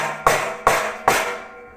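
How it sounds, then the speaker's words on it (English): Three sharp metallic hammer strikes on a steel piece held in an impact-rated clamp, evenly spaced and ringing briefly after each blow, close and clear. "If I hit it with a hammer,"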